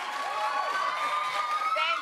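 Studio audience crowd cheering and whooping at a talk show, a steady dense roar of voices held at full loudness throughout, with scattered higher shouts rising above the mass.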